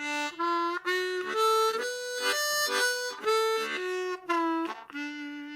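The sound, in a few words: harmonica playing major pentatonic scale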